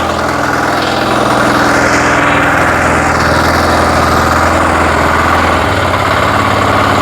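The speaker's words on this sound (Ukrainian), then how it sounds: "як шипоче двигун, а?" A small diesel walk-behind tractor engine idles steadily with a low, throbbing rumble and faint mechanical rattle, constant throughout and fairly close.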